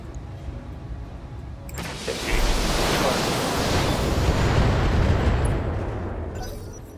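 Indirect fire from weapons in the mech combat game Battletech lands as a rumbling, broad explosive roar. It swells after a sharp onset and sustains for several seconds, loud and close.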